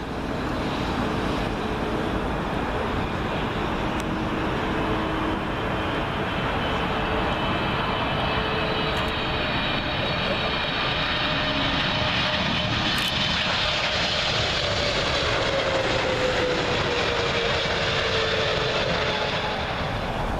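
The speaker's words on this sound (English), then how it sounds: "we've got another American 777. And this one has come from Miami." An American Airlines Boeing 777 from Miami roars in on final approach to Heathrow's runway 27L over Myrtle Avenue, a loud continuous engine rumble with a slowly falling whine, and no talking.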